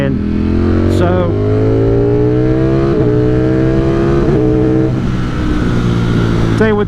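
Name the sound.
Ducati Streetfighter V4 motorcycle accelerating and quick-shifting under power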